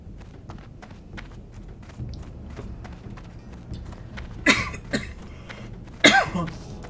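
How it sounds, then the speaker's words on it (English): A single person coughs twice, short harsh bursts a little over a second apart, over quiet background noise and soft tapping. "And I'm still coughing."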